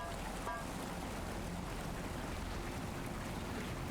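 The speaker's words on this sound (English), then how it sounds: "You're drowned out a bit by the waterfall." Steady broadband rush of falling water from a waterfall in the video game The Forgotten City, continuous and fairly loud throughout, filling the scene with no clear breaks.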